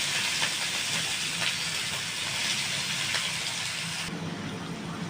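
Chopped onion tipped into hot oil with cumin, asafoetida and turmeric in a pan sizzles with a steady bright hiss, fairly close and continuous, easing slightly toward the end.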